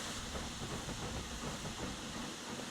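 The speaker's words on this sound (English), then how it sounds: "the train going over the bridge there" A train in a train simulator game rolls steadily over a bridge, a continuous broadband rumble with faint rhythmic clatter and hiss, sustained and even throughout, no voices.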